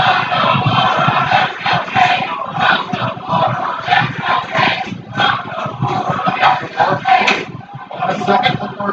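A wrestling arena crowd roars and chants throughout the Balor vs Nakamura match, a loud, dense, pulsing wall of cheering with rhythmic swells.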